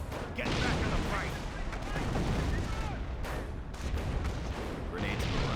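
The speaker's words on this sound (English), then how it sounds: "artillery raining on him, getting some hits there on the Fallschirmjägers" Artillery shells pound a Company of Heroes battlefield where Fallschirmjäger infantry are under bombardment, heavy booming impacts and crackling gunfire bursting repeatedly in a loud, continuous barrage.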